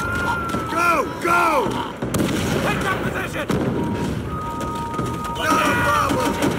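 Artillery and gunfire in the Call of Duty: World at War campaign, with booming blasts and shots mixed with shouted voices close by.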